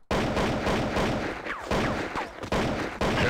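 Dense, sustained gunfire from a shooting video game, loud bursts of rapid shots running through most of the stretch with brief dips and a few sharper whooshing effects in between.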